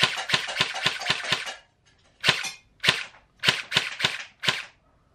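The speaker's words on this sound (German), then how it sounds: "Wir schießen unten auf die Scheibe." HK 416c airsoft rifle firing at a target, a rapid string of about eight sharp snapping shots followed by four separate single shots, close and loud with no talk.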